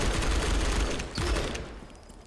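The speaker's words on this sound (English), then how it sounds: "there's just this random guy who keeps shooting" An enemy fires continuously in the video game Outpost Infinity Siege. The gunfire comes as a dense, loud rattle that runs through most of the stretch, eases briefly and returns, then fades toward the end, with no voices over it.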